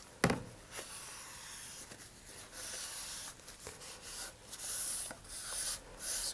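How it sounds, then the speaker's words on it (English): Cloth wiping rubbing alcohol over epoxy glue on a Terrier Sandhawk model rocket motor mount, a soft steady rubbing with a few sharper swipes, close and quiet with no talk. "The rubbing alcohol kind of cuts it so that it just wipes off."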